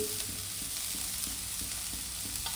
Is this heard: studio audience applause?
no